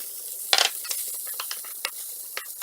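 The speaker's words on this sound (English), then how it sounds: "Let's add bacon into the saucepan and fry it for a while." Bacon, onion and sausage fry in a saucepan, a steady sizzle broken by sharp scraping stirs and spatters, close and fairly loud.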